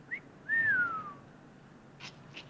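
A man whistles a single short pip, then a longer rising-and-falling whistled note, faint and somewhat distant over quiet room tone, followed by a couple of soft knocks.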